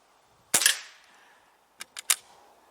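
Beeman QB78 .22 air rifle firing a Predator Polymag pellet: one sharp, close crack with a short decay, followed a moment later by three quieter clicks of the action.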